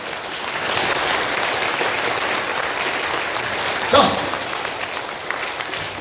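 A church congregation at a revival meeting in Toronto claps in a sustained, even wash of applause; a voice briefly speaks a single word partway through.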